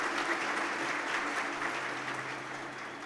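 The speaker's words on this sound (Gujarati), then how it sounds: "એને ફરીવાર જોરદાર તાળીથી આપણે વધાવીએ" An audience at a Thursday thought program applauds two guests, the wives Dakshaben and Bhavnaben: steady, dense clapping from many hands, moderately distant and sustained throughout.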